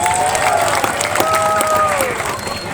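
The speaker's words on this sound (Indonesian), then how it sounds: "Tepuk tangan semuanya." An audience claps at a public event with officials present, with crowd noise and a sustained tonal sound running under the clapping.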